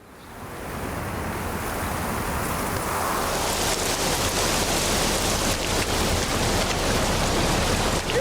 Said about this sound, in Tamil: மழை ரொம்ப அதிகமா பெய்யுது.